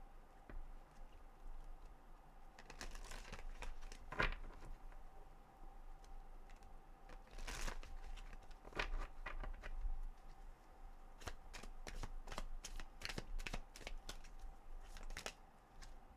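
A deck of Spirit of the Animal Oracle cards is shuffled close by, giving soft, quiet riffles and scattered taps and clicks over about sixteen seconds, with a quick patter of card flicks near the end.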